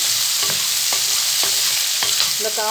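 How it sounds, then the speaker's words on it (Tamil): Pieces of bottle gourd sauté in hot oil for a spicy dried anchovy and cowpea curry, a steady close sizzle broken by several scraping stirs of a spoon against the pan. "இதையும் கொஞ்சம் நேரம் இந்த ஆயிலே வதக்கி கொடுக்கலாம்"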